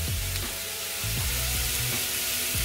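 Chicken chow mein vegetables frying in a pan, a constant loud sizzle with repeated low scraping thumps from stirring at an uneven rhythm.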